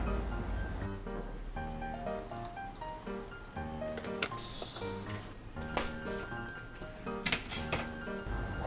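A spoon stirs a drink with fresh milk added, giving a few light clinks against the cup over steady background music.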